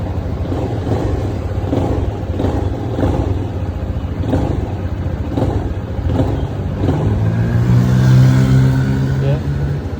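A new Modenas Z15GT motorcycle engine idles with a pulsing low throb, then revs up into a rising, steady drone near the end, with people talking over it.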